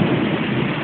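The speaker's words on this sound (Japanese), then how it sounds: "強烈な雨が降ってきました" Heavy rain pours down steadily in a thunderstorm, a dense, loud, continuous roar with a low rumbling undertone throughout, no voices.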